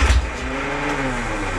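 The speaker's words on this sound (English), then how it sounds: "I'll start motor. Come on. There we go." A classic Mini engine cranks on a diesel jump pack and catches, a loud close roar with a rising, wavering rev settling into a steady idle.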